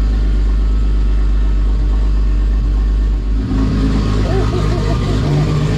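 A boosted engine on a dyno with a TH400 transmission, held on the trans brake with a 150 nitrous shot while building boost, roars loud and steady, its tone rising partway through, under people's voices.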